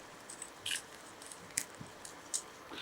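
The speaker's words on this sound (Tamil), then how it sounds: "ஒரு 2 மிளகாவை இப்படி நல்லா உடச்சி போடுங்க." Dried red chillies are snapped by hand and dropped into a pan of oil, making faint, scattered crackling snaps and light crunches against a quiet background.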